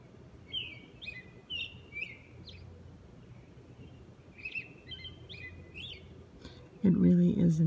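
Birds chirp and whistle in short bursts before dawn, around 4 a.m., against a quiet, low background hum, with a louder muffled sound breaking in at the end.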